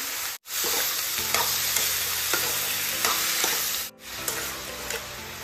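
Onions with turmeric and salt frying in oil, stirred over a medium flame: steady close sizzle with repeated scraping stir strokes, briefly broken twice by short gaps, no talking.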